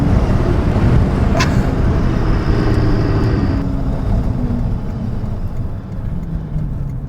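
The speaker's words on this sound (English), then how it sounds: "This thing just wants to destroy the tires as you go through the gears." Twin-turbo VR6 swapped Volkswagen New Beetle with all-wheel drive and a six-speed manual, accelerating hard through the gears with a loud, continuous, rising engine roar heard from inside the car.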